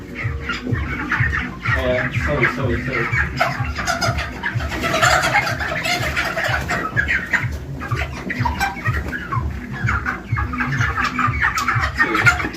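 Broiler chickens clucking steadily inside a crowded poultry house, a dense continuous chorus of many birds close by, with a brief spoken word.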